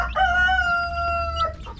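A hen on a Philippine backyard farm gives a single drawn-out call, a clear nearby cry of about a second and a half with a sharper onset and tail.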